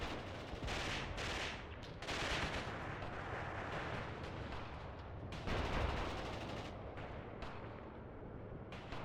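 Enemy anti-tank rifle fire in a WW2 battle in Mius Front, heavy booming gunshots over a dense, steady rumble of combat noise, with louder blasts near the start and middle.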